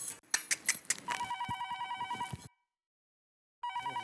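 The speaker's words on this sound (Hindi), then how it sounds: "फोन आया।" A telephone bell rings loudly and close in a household setting, with a few knocks and clatters at first, then a steady warbling ring that cuts off, falls silent and starts again.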